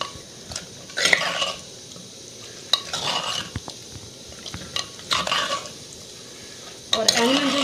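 Chicken frying in a pot with garam masala, salt and turmeric, stirred in bursts: scraping, sizzling clatter comes in several short waves over a quiet background, fairly close and moderate in level, with no talk.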